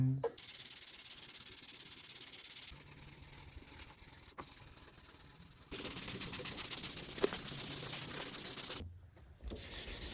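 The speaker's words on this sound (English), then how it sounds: "I'm sanding right now at a sort of diagonal" Hand sanding a knife blade with sandpaper on a restored old knife, worked diagonally to remove grind lines: steady scratchy rubbing strokes, close and continuous, louder and harsher in the second half before a brief pause.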